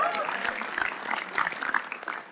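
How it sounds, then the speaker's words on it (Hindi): A studio audience at a comedy roast show claps for a comedian in dense, steady applause with scattered louder claps and some crowd voices mixed in. "उर्जिता वानी के लिए तालियां प्लीज"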